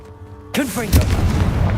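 Confringo blasting spell explosion in the Hogwarts Legacy video game: a sudden loud burst after a quiet hum, followed by a sustained rumbling roar with whooshing magical swirls.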